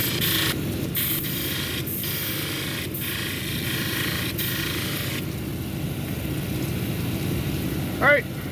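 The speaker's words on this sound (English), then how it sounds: "Now we're going to move over to the 280 grit and clean up the edges with the scratches from these two wheels here" A lapidary 280 grit wheel grinds the edges of a banded jasper cabochon, a steady close whirring hum of stone against the wet wheel, with brief pauses in contact throughout.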